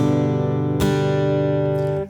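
Acoustic-style guitar playing the opening chords of a worship song intro: a chord already ringing, then a sharp fresh strum that sustains clearly and fades near the end, with no voice.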